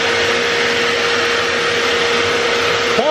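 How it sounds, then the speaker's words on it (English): A vacuum cleaner runs continuously at close range while airbrush gear is cleaned, a loud, steady motor whine with a constant tonal hum and no pauses, ending with a faint click. "Vacuum cleaner."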